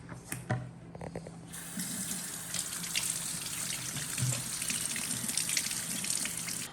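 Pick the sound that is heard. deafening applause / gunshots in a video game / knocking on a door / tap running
tap running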